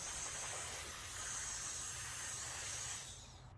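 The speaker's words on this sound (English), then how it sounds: "And then I grab my little turbo fan." A small turbo fan blows a steady, broad airy hiss at close range for about three seconds before it drops off, set in a shop servicing Mazda 323 GTX front wheel bearings.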